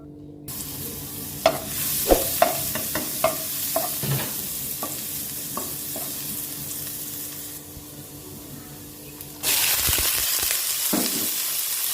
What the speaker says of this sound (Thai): วันนี้จะผัดหมึกกับกุ้ง ใส่ถั่วนันเตาหวาน แล้วก็ข้าวโพดอ่อน